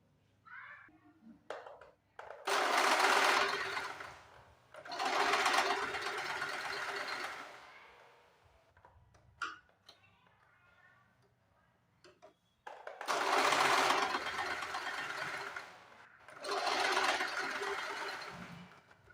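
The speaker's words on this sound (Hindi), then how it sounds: "यहाँ से हम एक सिलाई लगा देंगे, सीधी इस तरह से सिलाई लगा देंगे।" A sewing machine stitches a straight seam on a folded fabric pot holder, running in several loud bursts of a few seconds each with quiet pauses, handling noises and faint voice between runs.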